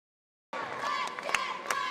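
Hometown crowd at a Springfield varsity girls' basketball senior night cheering in a gym, starting abruptly after silence, with a steady murmur of voices punctuated by a couple of sharp claps or thumps.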